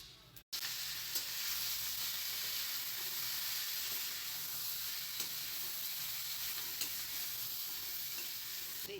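Turmeric and cumin frying in oil with arbi (taro root) vegetables make a steady, dense sizzle that continues evenly throughout, with faint stirring scrapes and no speech.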